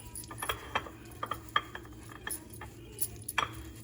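A spoon mixing turmeric and cumin into amla pickle in a bowl, with light metallic clinks and scrapes at an irregular pace, close and quiet, and no one talking.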